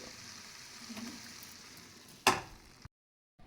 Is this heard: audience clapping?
no